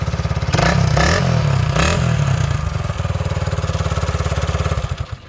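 A metallic green and chrome 1971 Honda SL125 motorcycle engine runs close by, with a couple of throttle blips early on, then settling into a steady, rapid single-cylinder putter before cutting off at the end.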